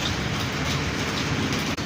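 Heavy rain pours steadily and loudly as a dense, even hiss, with a brief dip near the end and no voices.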